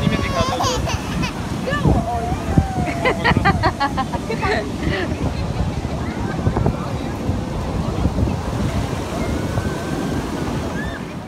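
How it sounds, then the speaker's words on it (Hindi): Rushing, strong-flowing water at a monsoon picnic spot, a continuous broad roar with wind buffeting the microphone, while children and adults chatter and call out over it. "वाटर फ्लो आप देख ही सकते हैं कितना ज़्यादा तेज़ है"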